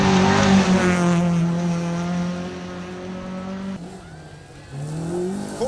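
Holden Commodore rally car racing on a gravel stage at the Safari Rally, engine roaring loudly with rising and falling revs and gear changes, close and continuous with no talk.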